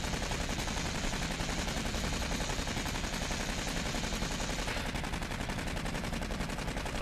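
Turret machine gun blazing nonstop in the sci-fi shooter Aliens: Colonial Marines, a dense, loud stream of rapid automatic fire with no pauses across the whole stretch.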